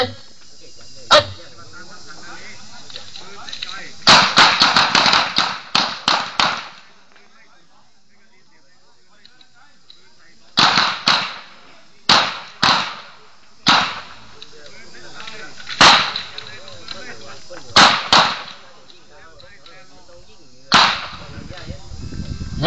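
Sharp, loud gunshots from a Glock 19 pistol on a firing range, fired in quick clusters of several rounds with pauses between strings, each crack trailing a short echo.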